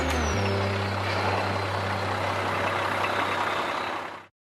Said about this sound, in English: The AM General Humvee, with a V8 engine and a top speed of around 70 miles per hour